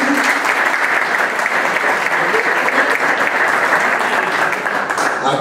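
Sustained applause from a large audience at a formal ceremony in Valsequillo, steady and dense throughout with a faint murmur of voices mixed in.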